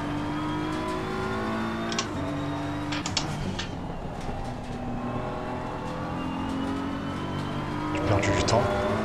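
Race car engine droning in the Assetto Corsa Competizione racing game, a steady layered whine with shifting pitch as the car brakes and accelerates, heard continuously beneath a voice talking.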